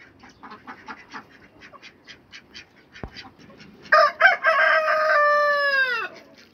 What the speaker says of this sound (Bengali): এখন এখানে আছে 5টি হাঁস, তার মধ্যে 2টা হাসি আর 3টা হাসা